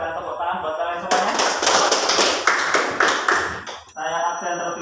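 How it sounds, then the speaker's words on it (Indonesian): Students in a classroom break into applause, a dense burst of many hands clapping for about three seconds, framed by a teacher talking before and after. "tepuk tangan buat kalian semuanya"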